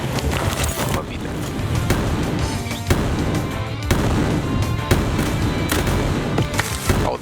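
Weapon fire in the G.I. Joe: Wrath of Cobra video game, sharp blasts repeating at a steady pace over a dense, noisy game soundtrack, loud and close, with a voice talking over it.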